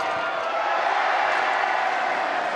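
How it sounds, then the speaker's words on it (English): Arena crowd at a Philippine MPBL basketball game between Caloocan and Manila roars steadily, a dense, loud wash of cheering voices holding for a few seconds without letup. "Crowd getting into it."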